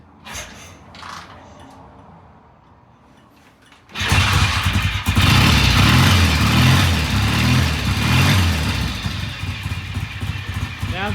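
A BSA A65 motorcycle engine cold-starts around four seconds in after a quieter stretch, then runs loud and close with a steady, rough, clanky idle throughout.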